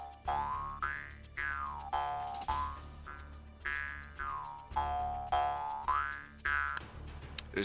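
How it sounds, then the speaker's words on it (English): A mouth harp twangs in a repeated rhythmic pattern, each pluck bending in pitch with a boingy wah, close and steady. "This is a mouth harp."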